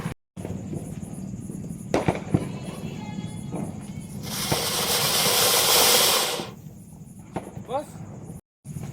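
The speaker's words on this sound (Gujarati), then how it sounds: "હાલો ફટાકડા ફોડી." Diwali firecrackers set off outside a family home: a long hissing, roaring burst swells for about two seconds amid scattered pops and outdoor background noise, with people talking around it.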